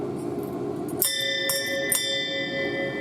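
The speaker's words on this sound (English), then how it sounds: "that's the dinner bell" A dinner bell is struck three times in quick succession, each strike bright and close. Its clear metallic tones ring on and slowly fade, with no talking.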